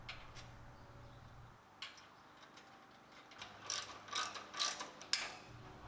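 A ratchet clicks in quick bursts while tightening bolts on a DeWalt DW7880 scroll saw stand, close and fairly quiet, the pawl's rapid ticking rising toward the end over a low background hum.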